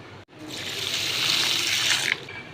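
Matta rice being rinsed in a bowl of water, a steady sloshing, running wash of water that swells after a brief gap and lasts about two seconds before stopping, close and fairly loud with no talk.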